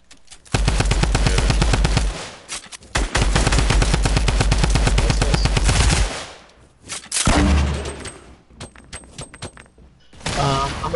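Minigun fire in Fortnite during a duos match, sustained rapid bursts of close, loud automatic fire in several long strings, broken by short pauses and scattered single shots near the end.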